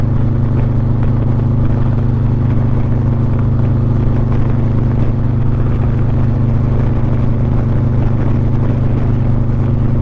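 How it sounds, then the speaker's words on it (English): A motorcycle engine rumbles loudly and steadily throughout, a deep continuous drone with wind noise, as if riding at a constant speed down a road. "I love the sound of this motorcycle as I'm cruising down the road."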